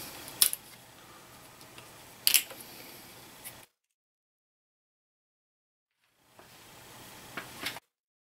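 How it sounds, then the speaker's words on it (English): Cutters snip through plastic cable tie straps on a Stellant injector head cable, two sharp, close clicks early on, a stretch of silence, then another faint snip near the end. "Now we have several tie straps that we're going to have to cut"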